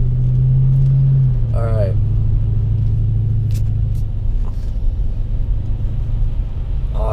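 A car drives through a snowy Big Bear Lake, California town, its steady low engine rumble and road noise running throughout, with a brief spoken remark near the start.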